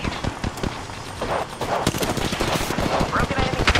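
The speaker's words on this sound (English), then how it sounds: "they're shooting at me" Rapid bursts of gunfire in an Apex Legends firefight ring out close and loud, sharp overlapping shots crackling in quick rhythm throughout with brief gaps.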